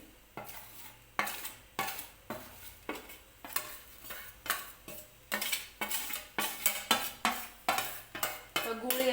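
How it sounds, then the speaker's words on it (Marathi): Grated jaggery tipped into a kadhai with grated coconut and stirred, a spoon scraping and clinking against the metal in a steady repeated rhythm with faint sizzling beneath, close and moderately loud. "तर आता कढईमध्ये मी गूळ जो किसून घेतलेला होता तो सुद्धा टाकून घेणार आहे"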